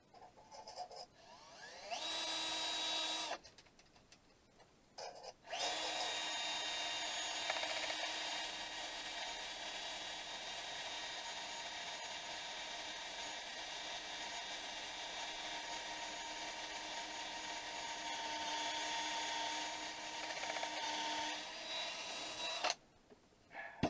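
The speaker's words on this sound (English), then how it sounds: "Never drill metal on a high speed." A power drill whines steadily through metal at close range, with a couple of short pauses, a sustained high-pitched grinding drone.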